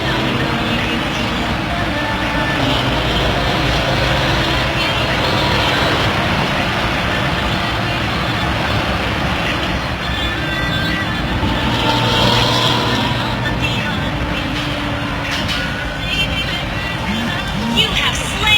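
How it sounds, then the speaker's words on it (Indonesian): A PO. Madona bus runs with a loud, raspy, growling exhaust, a continuous heavy engine drone amid roadway noise, with faint voices in the background. "knalpotnya mantap."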